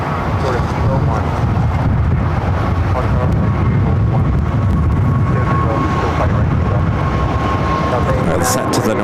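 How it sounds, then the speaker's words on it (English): An Airbus A350-1000 arriving from Doha on short final for runway 24 right at Los Angeles LAX passes as a broad, loud jet rumble mixed with wind buffeting on the microphone. The roar stays steady throughout, with talk over it. "now short final for 24 right. It's 739 coming up from Doha on this A350 1000"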